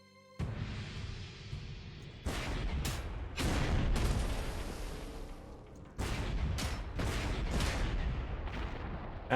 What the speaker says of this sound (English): Some reasonable return fire.